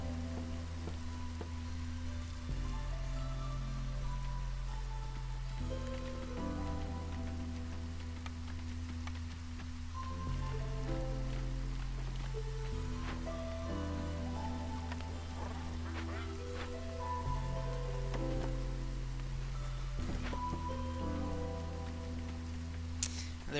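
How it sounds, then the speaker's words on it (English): Rain from a hailstorm in the strategy game Against the Storm hisses steadily and softly under a low, slow-moving musical score with sustained tones. "There are 2 ways of dealing with this hailstorm."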